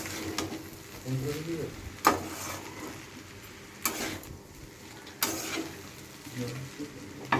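Chow mein being stirred and fried in a loaded wok, with a soft steady sizzle broken by a few sharp scraping and clanking stirs roughly every couple of seconds, close and moderately quiet.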